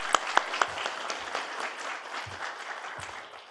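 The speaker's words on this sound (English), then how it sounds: "So big round of applause for Mr." Conference audience applauding a speaker, a few sharp close claps at first, then a dense spread of clapping that gradually thins and fades over a few seconds.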